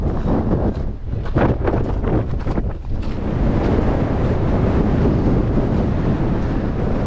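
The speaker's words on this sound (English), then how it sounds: "I can't believe it's this windy here" Strong wind at Laguna Torre, a Patagonian lake near El Chaltén, blasts continuously across the microphone in a loud, roaring rush with gusty buffeting early on.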